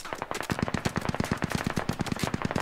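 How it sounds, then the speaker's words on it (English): Automatic gunfire from the military shooter game Squad crackles in a rapid, evenly spaced stream of loud shots that continue without a break and with no voices. "They're shooting at this."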